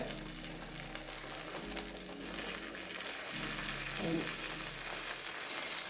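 Egg omelette sizzling steadily in a hot pan, a continuous soft crackling fry with faint stirring and no voices, growing slightly louder toward the end.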